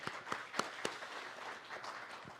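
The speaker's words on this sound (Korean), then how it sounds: "다시 한번 박수 부탁드리겠습니다" Faint audience applause at an award ceremony, a few sharp claps standing out over a soft, scattered patter of hands that fades across two seconds.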